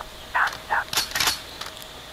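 A gun reloaded and cocked in the VR shooter Onward: a quick series of sharp mechanical clicks and clacks, a magazine seating then a heavier slide rack, close and crisp over a quiet background.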